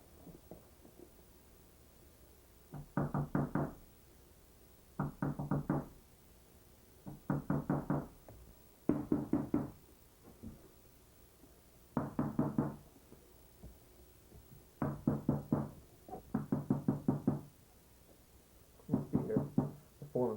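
A chisel is tapped along marked lines to cut slices, producing short clusters of rapid knocks that repeat every couple of seconds, crisp and close, with silence between bursts.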